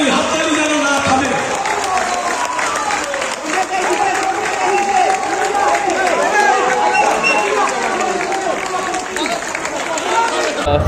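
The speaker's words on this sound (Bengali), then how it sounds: "জোরে হাততালি, হাততালি যেন না থামে।" Applause for a football coach after a Santosh Trophy win, a dense, sustained clapping from a crowd with chatter mixed in, loud and continuous throughout.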